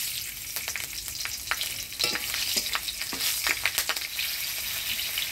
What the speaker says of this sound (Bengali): ফোড়নে দিয়ে দিব কালো জিরা, কাঁচা লঙ্কা।